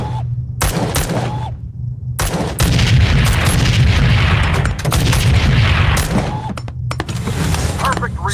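Gunshots fire in the VR shooting game Gun Club VR, loud sharp bursts repeating in quick clusters with short pauses, while a voice talks over the shooting.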